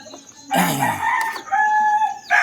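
A rooster crows loudly and close by, one long drawn-out call followed by a second starting at the end, with chickens clucking around it.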